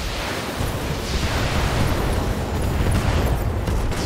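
Mech weapons firing in BattleTech, a dense, continuous roaring blast of sound that stays loud and broadband throughout, with deep rumbling underneath and no clear separate shots.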